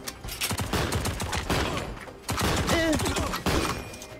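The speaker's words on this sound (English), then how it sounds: "I missed that guy with my shotgun multiple times" Rapid gunfire in the top-down shooter Tango Fiesta fires in dense bursts with short gaps, loud and close, mixed with a brief whistling effect partway through.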